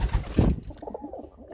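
Pigeons cooing in a loft, a short nearby burst of low throaty coos that fades into softer murmuring.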